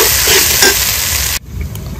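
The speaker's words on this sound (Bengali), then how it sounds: "ভালো করে মশলাটা কষিয়ে নেব।" Ground spice paste with salt and powdered spices sizzles loudly as it is stirred and fried with chicken, a steady close crackle that cuts off abruptly partway through, leaving only a faint hiss.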